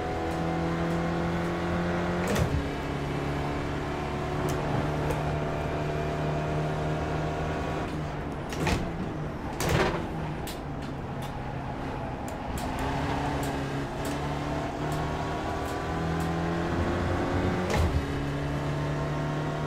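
A Spec Racer Ford race car engine works hard on track at Daytona, heard from inside the car as a loud, continuous drone that climbs in pitch through each gear and drops sharply at the shifts.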